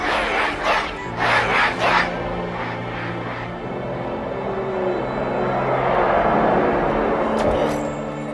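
A large crowd roaring and cheering in the Halo 2 intro, swelling bursts of massed voices early on, then a broad sustained roar building toward the end over a low orchestral drone.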